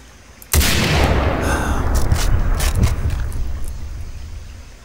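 A rifle fires at a crocodile in the Far Cry 3 video game, one loud close crack that rings out into a long rumbling tail lasting several seconds.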